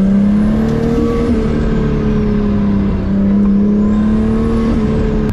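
A car held at full throttle while drifting gives a loud, close, sustained engine drone whose pitch swells up and down as the revs rise and fall, with no voices.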